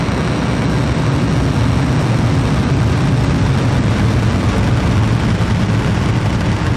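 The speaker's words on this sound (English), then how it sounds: "T-minus 10, 9, 8, 7, 6, 5, 4, 3, 2, 1. Liftoff." A SpaceX Falcon rocket lifts off on the Maxar WorldView Legion 5 and 6 mission, and its engines give a loud, continuous broadband roar. The rumble stays dense and steady throughout with no talk.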